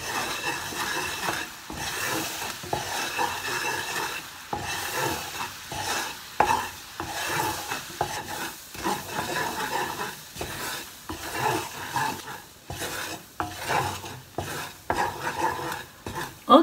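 A pot of kokutou brown-sugar liquid simmers on medium-low heat, giving a continuous run of close bubbling and stirring noises with irregular soft bursts.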